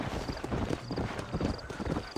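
Horse hooves clip-clop steadily at a walking pace in the Western video game Red Dead Redemption, close and continuous with a faint whinny-like tone, no talk.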